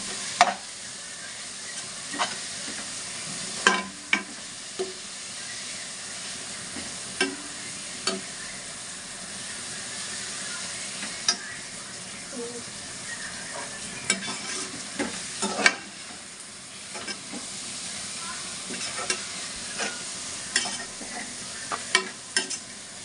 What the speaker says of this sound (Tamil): புதினா, கொத்தமல்லி, கொஞ்சமாக கருவேப்பிலை எல்லாம் நன்கு சேர்த்து நன்றாக